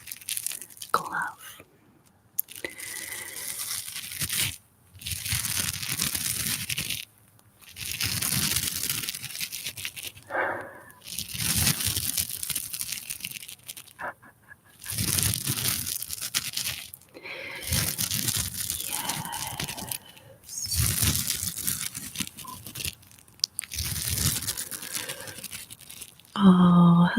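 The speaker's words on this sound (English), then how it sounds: "I'm just gonna gently massage your face with this ultra scratchy glove" An ultra scratchy glove rubs and scrapes right against the microphone in long, loud, crinkly bursts with short silent gaps between strokes, ASMR-style close and intimate.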